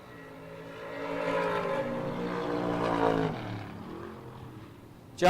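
Two drag racing cars, a Mustang and the Flip-A-Dollar Roadster, roar off the line together at a Big Buck Nationals drag strip, a loud rising engine howl that builds and then fades as they pull away.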